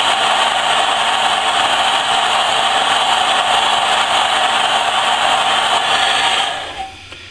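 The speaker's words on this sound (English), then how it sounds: "just after a few seconds with a hair dryer" A hair dryer blows over Lionel Scout model train trucks with a loud, steady whirring hiss, then switches off and winds down near the end.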